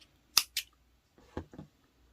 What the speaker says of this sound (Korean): 실을 잘라주세요.